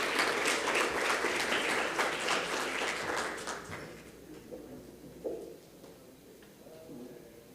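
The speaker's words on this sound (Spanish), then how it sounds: "Un fuerte aplauso, bienvenidas" Loud applause from a forum audience welcoming a women's panel on content industry and technological convergence at Foro Caribe Naranja, sustained for about four seconds before fading into scattered claps and quiet room noise.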